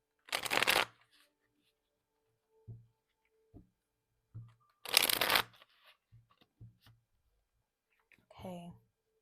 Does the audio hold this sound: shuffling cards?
yes